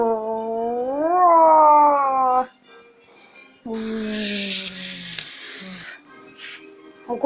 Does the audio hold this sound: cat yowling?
yes